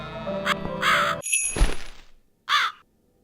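Harsh crow caws in the video game The Cat Lady, several loud, close calls with a swoosh in between, the last caw standing alone before silence.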